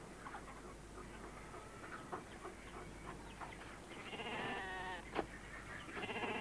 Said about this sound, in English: Now these are sheep, boy. Nothing but dumb sheep.